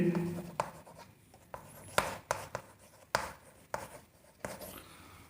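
Chalk or marker writes on a board during a lecture on lipid classification, giving a run of short taps and scratchy strokes at an uneven pace, fairly close and clear, with no talk over it.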